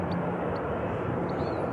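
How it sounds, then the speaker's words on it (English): A Jet2 airliner taxiing at Manchester Airport, arriving from Bergen, gives a steady, fairly loud broadband engine roar that holds evenly throughout with no pauses. "And this Jet 2 just arriving in from Bergen."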